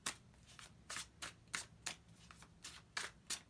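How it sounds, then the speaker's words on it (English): Tarot cards shuffled by hand in quick, rhythmic riffles, about a dozen soft crisp bursts in a few seconds, close and quiet with no talking. "Let's just give them a good shuffle and get started."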